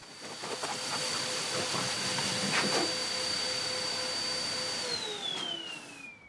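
A blow dryer pushes air across a fabric car convertible top in a loud, steady whooshing roar with a high whine, which drops in pitch near the end as the motor slows.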